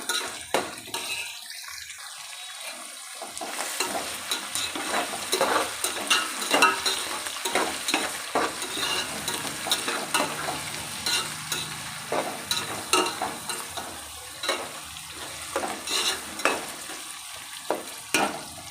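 Green chillies and peas frying in a pan for egg fried rice, a close steady sizzle punctuated by rhythmic scraping and tossing strokes of a spatula throughout, with no talking.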